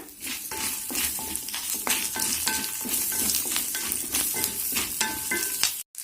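Onion, garlic, dried red chillies and chana dal sautéing in oil in a pan for a sundakkai thuvaiyal, a steady sizzle and fry broken by repeated scrapes and clinks of a stirring spoon against the pan, close and continuous.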